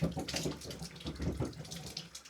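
Water runs from a tap in a cabin just after air was blown out of the pipes, a steady sputtering gush with uneven bursts, close and continuous without talk.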